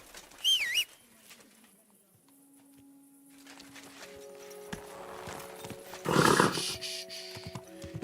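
A horse in the video game Kingdom Come: Deliverance 2 whinnies briefly, followed by quiet hoof clops and a low steady hum, with a louder burst of horse noise near the end.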